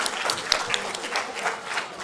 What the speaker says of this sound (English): So please, a big warm applause to our speakers, Marcello, Vandelin, and Gloria